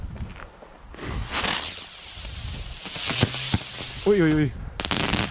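Silver crackling fireworks go off outdoors on a windy New Year's Eve, a burst of sharp crackles and pops with scattered bangs, while a person reacts vocally and others speak nearby.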